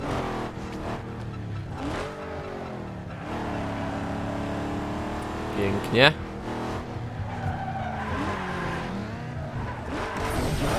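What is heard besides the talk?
video game racing car engines whining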